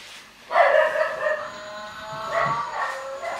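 A dog barks at people walking past in a short series of yelping barks, moderately close, with a brief pause between two bursts.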